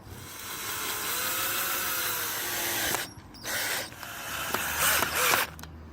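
Screws being driven into a duckling enclosure, a steady whirring and grinding drive that runs for about three seconds, then stops and gives way to shorter bursts of scraping and tool noise.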